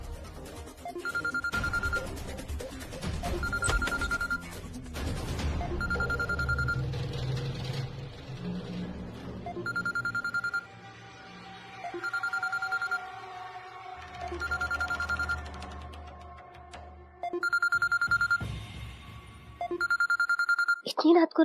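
A telephone rings late at night in a home, sounding in repeated evenly spaced bursts of electronic trills with short pauses between them, while dramatic music and voices play underneath.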